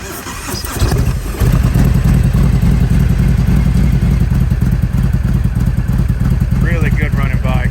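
A 2017 Harley-Davidson Road Glide Special with about 16,700 miles idles loud and close, its engine a steady, lumpy rumble that swells after a brief start and runs on without a break.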